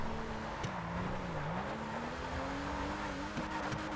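A Falken drift Mercedes 190E sliding sideways in GTA Online, engine holding a steady wavering tone under a broad road roar, with brief tire scrubs near the end.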